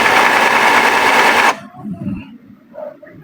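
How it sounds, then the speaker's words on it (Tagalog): An Epson L3210 inkjet printer whirs loudly for about a second and a half, then cuts off abruptly, leaving quieter mechanical clicks and shuffles. "So, on process pa yung printer natin."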